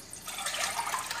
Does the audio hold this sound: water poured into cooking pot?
yes